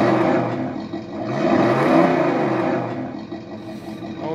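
Simulated engine revving from a Tamiya MFC-02 sound module in a Tamiya F-350 High Lift RC 4x4 truck, a steady electronic motor drone that swells and falls in one long rev, loud and close with no talk.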